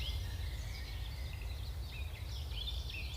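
Birds chirp and call in scattered, high bursts over a constant low rumble and a hiss of insects, an outdoor ambience recorded on a regenerative farm, steady and moderately faint with no talking.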